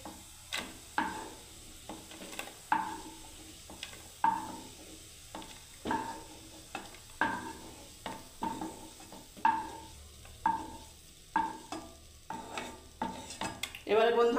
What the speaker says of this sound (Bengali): এবার দেখুন রসুনগুলোকে নামিয়ে নিচ্ছি প্লেটে